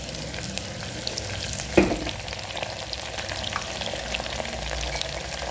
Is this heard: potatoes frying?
yes